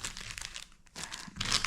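One Piece trading cards shuffled by hand, a dry crinkly riffling in close, busy bursts with a brief pause midway before a louder flurry.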